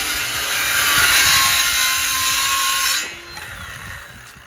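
Power saw ripping along a guide through wood for a bearded dragon enclosure: a loud steady whining cut for about three seconds, then the blade spinning down to a softer hum.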